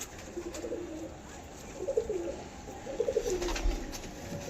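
Adult pigeons cooing softly in repeated low rolling phrases, fairly quiet and close, with light background noise.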